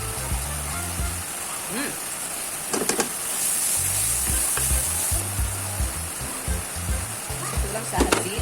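Crickets (kamaru) frying in oil in a home kitchen, giving a steady broadband sizzle with occasional stirring clatter, under intermittent low background noise.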